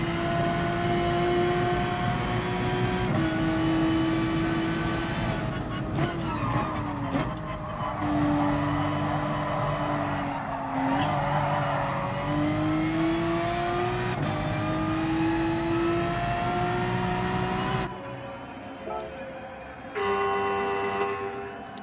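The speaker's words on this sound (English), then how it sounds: "I'm in the Porsche 911 RSR" A Porsche 911 RSR race car in Gran Turismo Sport screams at high revs through a long online race stretch, pitch climbing and dropping with gear shifts, then briefly cutting out before roaring back.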